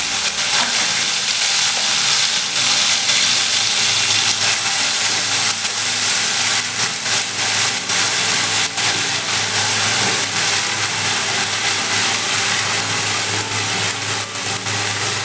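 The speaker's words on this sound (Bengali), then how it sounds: "সমস্ত মশলাটা আমি ভালোভাবে এবার কষাবো ভালো করে ভাজবো" Spices with ginger, garlic, onion and green chilli fry in a pan for a kohlrabi curry, giving a continuous, loud, close sizzling hiss that holds steady throughout, with occasional crackles and stirring scrapes and no talking.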